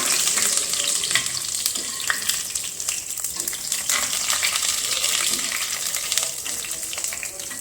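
Garlic and ginger sizzle steadily in hot oil for lentil dal, a dense continuous crackle with occasional stirring scrapes.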